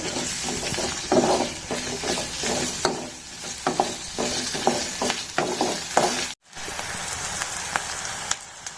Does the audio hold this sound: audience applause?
no